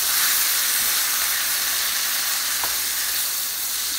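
Continuous loud sizzling of asparagus sautéing in a pan, with a brief scrape of stirring partway through.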